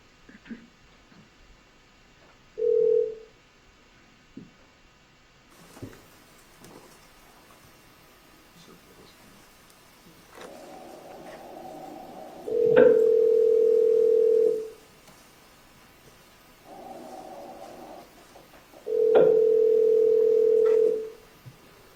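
A recorded telephone call rings through with several spaced ringback tones and faint line clicks, then goes quiet before reaching voicemail.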